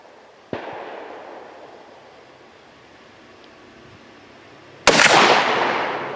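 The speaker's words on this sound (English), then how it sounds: "we're going to shoot a group at 15 yards" Two sharp gunshots fired at a target 15 yards away, one early and a louder one near the end, each with a short decaying echo over faint outdoor background.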